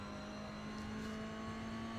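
Toyota GR86 engine accelerating at Imola in the iRacing sim racing game, a steady, moderately loud in-car engine drone under full throttle with a sustained tone and no pauses.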